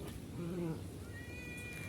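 A cat meows for food in a single drawn-out, close cry, followed by a thin high squeak, over light background noise.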